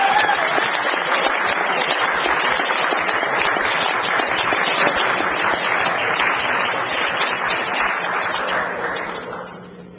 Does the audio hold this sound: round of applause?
yes